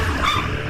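A brief, loud burst of dog barking and growling used as a sound effect in a Hindi horror story, lasting under a second, with no speech.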